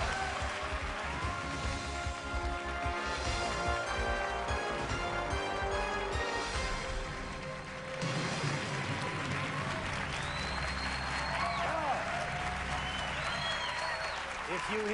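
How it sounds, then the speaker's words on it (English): Studio audience applause for a hometown New York City contestant on the February 2000 Who Wants to Be a Millionaire, loud and sustained throughout with music running underneath and a shift in the backing partway through. "If you hear that extra applause, it's because Jack Leshner is a hometown boy here in New York City."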